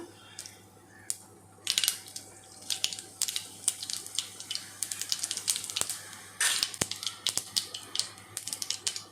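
Cumin seeds crackle in hot oil alongside mustard seeds, giving a close run of sharp, irregular pops and snaps over a faint steady sizzle, with the bursts growing denser partway through.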